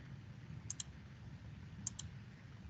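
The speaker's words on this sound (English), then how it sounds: "Just clicking on all the edges" Two quick double clicks of a computer mouse, about a second apart, faint and crisp against a low, quiet background hum.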